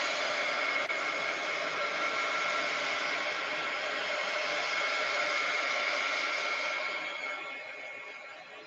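Hair dryer blowing on a wet journal cover, a steady close whooshing roar that runs unbroken and tapers off near the end, with no talk.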